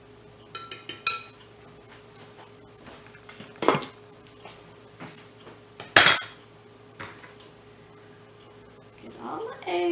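A fork mixes eggs into burger meat for mini sliders, with scattered metallic clinks and taps against a dish over a low background hum. A voice is briefly heard at the end.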